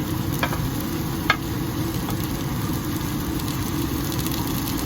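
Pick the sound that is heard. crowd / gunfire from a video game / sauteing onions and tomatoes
sauteing onions and tomatoes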